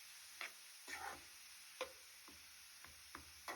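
Grated carrot stirred in hot ghee with a ladle while making carrot halwa, giving a steady faint sizzle broken by several soft scraping strokes spaced irregularly across a few seconds.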